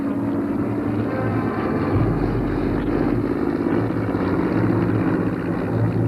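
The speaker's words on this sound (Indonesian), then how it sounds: "Pesawat-pesawat ini telah dilengkapi dengan senjata-senjata berat untuk menggempur Surabaya dari udara" Heavily armed military aircraft in flight over Surabaya, heard as a continuous low droning engine rumble that holds steady and fairly loud throughout, with no voices.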